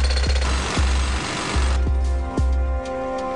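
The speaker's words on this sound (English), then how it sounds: "set to work with little more than a jackhammer" A jackhammer pounds in steady bursts of rapid hammering, loud and close, with a brief pause between runs.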